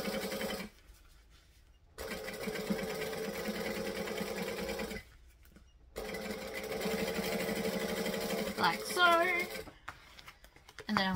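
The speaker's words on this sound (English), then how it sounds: "I am going to top stitch along the band just to make it pretty and flat" A sewing machine top stitches along a fabric band in three steady runs separated by short silent pauses, the motor hum clear and close, with someone speaking briefly near the end.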